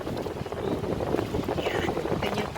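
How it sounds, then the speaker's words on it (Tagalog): Heavy typhoon rain and strong gusting wind roar continuously outdoors on the walk home from school, with rough wind buffeting and a steady wash of rain, and no clear voices over it. "Maulan na nga, mahangin pa."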